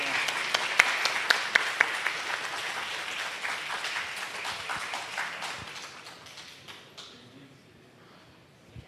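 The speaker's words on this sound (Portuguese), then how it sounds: "também peço uma salva de palmas ao presidente Afonso Furtado pela representação." Audience applause at the Folkcom 2025 honorees ceremony, a dense steady clapping that swells near the start and then gradually fades out over about seven seconds.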